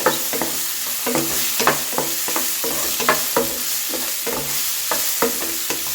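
A pan sizzles steadily while a utensil scrapes and stirs chopped ripe banana in a regular rhythm, with no talking.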